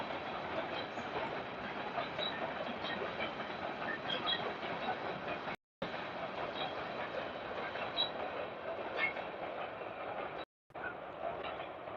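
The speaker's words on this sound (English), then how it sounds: "I'm just gonna like just video a train going by" A freight train rolls past close by, a loud, steady rumble with clattering wheels that runs for the whole stretch and cuts out in two brief gaps.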